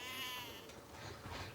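A single sheep gives a short, faint bleat, heard alone with nothing else in the quiet surroundings.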